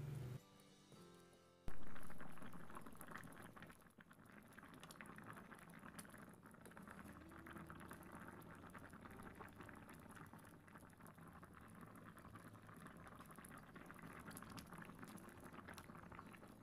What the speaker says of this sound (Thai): เฮาจะใช้เวลาต้มมันอยู่ที่ประมาณ 4-5 นาที